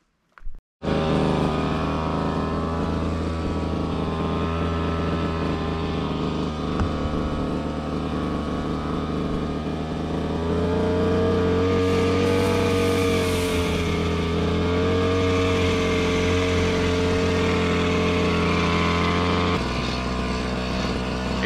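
A Koshin EP-10P engine power sprayer drones steadily and loudly for a long stretch, its pitch wavering slightly as it revs, then cuts off abruptly at the end.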